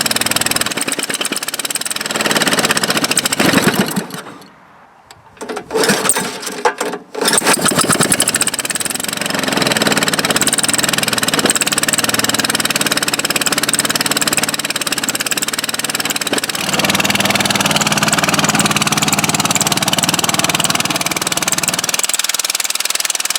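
Small engine newly mounted on a homemade quadractor, running with the choke on: loud, rough and knocking up close, sputtering and nearly dying briefly before catching again and running steadily.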